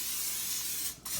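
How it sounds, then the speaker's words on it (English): A steady hiss of canola oil spraying from a can onto a block of raw chicken wings, close and continuous, ending in a short pause and a final burst. "we're gonna spray it down with a little canola oil."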